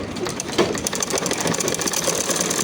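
A sewing machine stitching a plain shalwar runs continuously up close, giving a fast, even mechanical whirring and rattling rhythm with no pauses.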